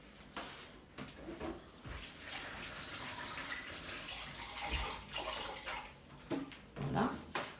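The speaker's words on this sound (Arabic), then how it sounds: "نغسل يديا" Running tap water splashes steadily as hands are washed at a kitchen sink, a continuous faint rushing with soft clatters and a voice speaking quietly underneath.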